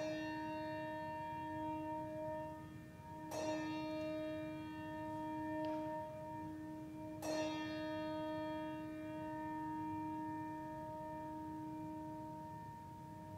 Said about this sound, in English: ask not for whom the bell tolls. It tolls for you.